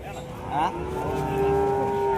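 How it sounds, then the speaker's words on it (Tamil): A short-statured cow gives a long, loud moo up close at a weekly cattle market in Gundadam, the call rising and holding steady. "இது குட்டை மாடு."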